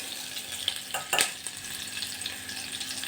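Onions sautéing in a pot for sambhar rice, a steady soft sizzle broken by a few scraping stirs of a spoon, close and without talk.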